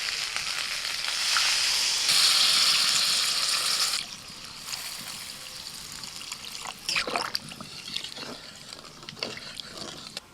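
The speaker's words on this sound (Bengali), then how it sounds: "এবার জল ঢেলে দেবো।" Water is poured into a hot pan of spiced potatoes and drumstick stems, bursting into a loud hiss and sizzle for several seconds before settling into softer bubbling and crackling, close up.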